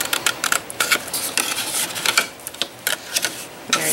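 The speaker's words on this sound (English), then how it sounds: "I'm going to use my larger scissors since I'm going a long way." Large scissors slice along a score line in a paper turkey craft, a rapid series of crisp snipping and crunching cuts close to the microphone with no talk.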